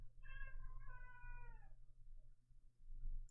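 Domestic cat meowing, a single drawn-out meow with a rising-then-falling pitch, fairly close over a steady low hum, followed by quiet room tone.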